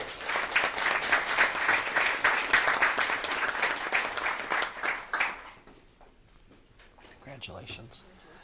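Applause for young students at a school board meeting, a dense round of clapping from the room that holds steady for about five seconds and then fades out, leaving quieter murmur and a few scattered sounds.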